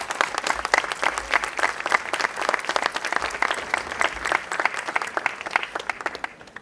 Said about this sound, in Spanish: un gran aplauso fraterno para nuestros amigos de Brasil